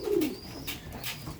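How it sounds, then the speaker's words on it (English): Racing pigeons in a loft at dawn give soft, low cooing phrases, one close coo clear at the start, with faint bird chirps and quiet rustling around them. "Been in my pigeon loft for about 15 minutes"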